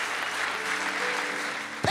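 A church congregation applauding, a steady, dense wash of clapping from a crowd that holds for about two seconds before a voice cuts in at the end.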